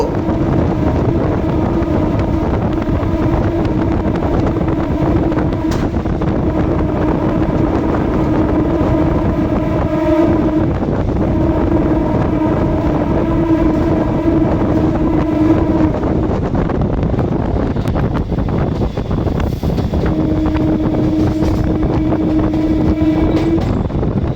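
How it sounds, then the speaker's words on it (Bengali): A Krishak Special local train runs through Khardah station without stopping, a loud steady roar of wheels and wind with a sustained horn-like tone sounding in long stretches, and no talk. "এখন আমাদের ট্রেন স্কিপ করছে খড়দহ"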